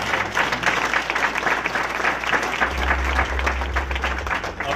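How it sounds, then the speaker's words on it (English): Sustained audience applause at a corporate academy launch event, a dense, even wash of many hands clapping at steady volume throughout, with a low hum underneath and no one speaking. "Can we give him a round of applause?"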